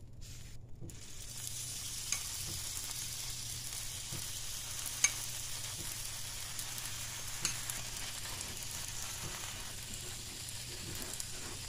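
Sattu parathas fry in a pan and are flipped one by one, with a soft, steady sizzle, close and low, broken by faint taps and scrapes, with no talk.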